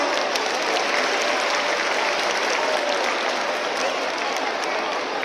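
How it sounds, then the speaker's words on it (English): Sustained, even clapping from a large audience at a school Children's Day celebration, a dense wash of applause filling the whole stretch without a break. "So clap for Kumbh House."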